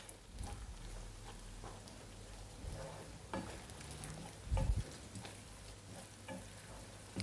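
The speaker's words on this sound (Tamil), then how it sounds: "தக்காளி சேர்த்த பிறகு நம்ம நல்லா வந்து அதை வதக்கி விட்டுக்கலாம்" Tomatoes sautéing in hot oil in a pan for a chicken gravy, giving a steady soft sizzle and crackle with occasional louder stirring scrapes, heard close with no talk.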